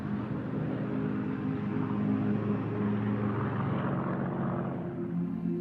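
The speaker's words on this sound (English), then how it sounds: "The Spitfire aircraft was a marvellous aeroplane to fly." A Supermarine Spitfire propeller aircraft flies past with a steady, loud droning engine hum that holds throughout, a slight swell midway and no voices.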